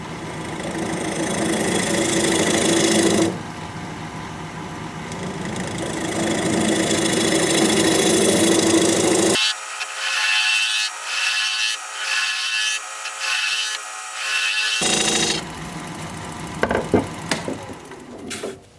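A wood lathe turns a bowl blank while a recess tool cuts a recess, making a loud, steady motor hum and scraping. The sound cuts out partway through into a thinner, choppy stretch, then returns with a few sharp knocks near the end.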